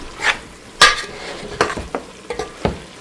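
A vegetable curry being roasted and stir-fried in a pan, with a soft sizzle and sharp, irregular spatula scrapes and clinks against the pan, close up and with no talking.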